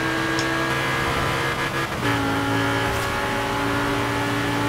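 A Lamborghini Gallardo in a racing video game holds a steady, loud engine drone under acceleration, its tone climbing slightly after a brief dip partway through, with no talking.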